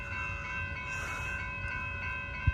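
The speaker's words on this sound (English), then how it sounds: "here comes Amtrak 541 going to San Jose Diridon Station." An Amtrak Capital Corridor train led by a Siemens Charger SC44 locomotive approaches at Bayfront Park in Pinole, California, a steady rumble with held horn-like tones, ending in a sharp close thump.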